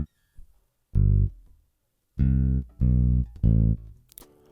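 A bass line from the Ample Bass P2 Lite virtual bass plugin plays as short, deep, sustained notes in a sparse rhythmic pattern of about five hits, clean and alone with no other instruments.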